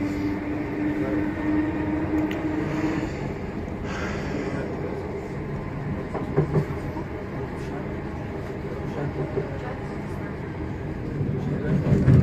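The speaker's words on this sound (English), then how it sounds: "there's a train on there, so it's a test train because it's not open yet." A test train on a railway line not yet open between Lea Valley and Tottenham Hale, heard as a steady low rumble of rolling stock and track noise throughout, with a voice speaking over it.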